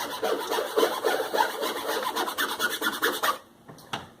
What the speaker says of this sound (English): Squeegee that down.